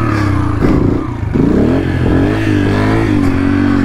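A small, low-torque motorcycle engine revs loud and close during wheelie practice, its throttle rising and dipping through the clip with a brief clattering scrape midway.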